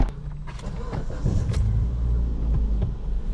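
A Ford Fiesta 1.6S runs with a steady low rumble heard from inside the car, with a few light clicks and knocks over the engine drone and no clear speech.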